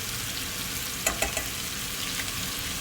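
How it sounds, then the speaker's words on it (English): Green beans and carrots fry in a pan for Thai chicken egg fried rice, a constant sizzle broken around the middle by a few sharp clinks and scrapes from stirring. "and then a proper stir again. Fry them for 5 to 10"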